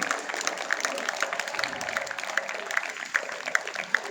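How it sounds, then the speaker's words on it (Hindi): Applause from an audience at a school poetry and speech event in Siliguri, a steady crackling patter with brighter clap bursts, heard at moderate level with a voice speaking over it. "जोरदार तालियां बजाइए"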